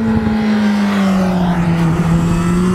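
A motorcycle engine drones loud and close while riding a straight, holding a strong steady note that sags slightly in pitch, with no clear break between gears and no voices.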